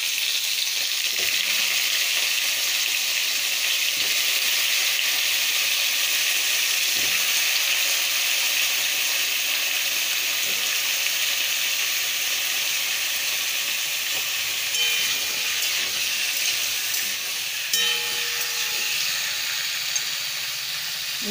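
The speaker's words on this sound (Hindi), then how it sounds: "कड़ाई रे तेल पकेची तेल ताती गला पर आलू आ कखारू पकेदला" Potatoes and pumpkin fry in hot oil in a kadai, giving a continuous bright sizzle and hiss that runs steadily for the whole stretch with occasional soft stirring clinks.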